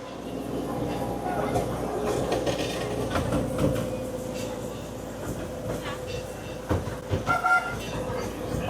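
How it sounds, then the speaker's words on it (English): A miniature train at Legoland Windsor starts moving, rumbling and clacking along the rails with a steady low drone, rattling picking up toward the end, voices faintly underneath. "The train is about to start moving."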